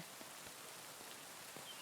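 Steady soft rain from the video game Kingdom Come: Deliverance II, a quiet even patter with a few faint drop ticks, heard alone without talk.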